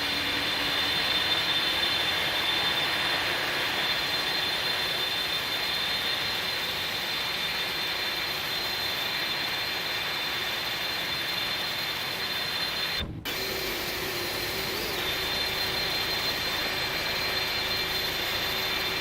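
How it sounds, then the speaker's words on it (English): Airbus A300 BelugaST jet engines running after start in X-Plane 11, a loud steady whine and roar held throughout with a high tonal hum and one brief dropout. "looks like we have a good start, and both engines are now stable"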